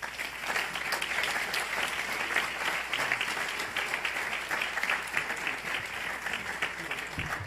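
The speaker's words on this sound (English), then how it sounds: "Let's give all of our panelists another round of applause, please." An audience applauds panelists at the close of a panel discussion, a steady, even wash of many hands clapping with some crowd murmur, continuous and fairly distant in a large room.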